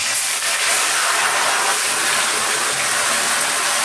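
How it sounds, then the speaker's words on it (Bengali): Marinated mutton hits very hot oil in a kadai for a Goan-style vindaloo, releasing a loud, dense, continuous hiss that stays steady and close throughout. "তারপর দিয়ে দিলাম ম্যারিনেট করা মটনটা।"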